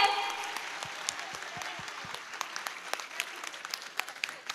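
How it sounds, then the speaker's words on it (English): An audience applauds children after their performance at a kids' academy annual function, scattered hand claps continuing for several seconds, fairly soft and somewhat distant, with voices faintly underneath. "Please give them a huge round of applause."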